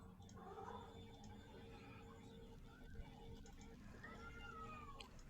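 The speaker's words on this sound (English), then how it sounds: "Meow, I hear a cat." A house cat meows a few times, faint and drawn out, under a low steady room hum with light clicks.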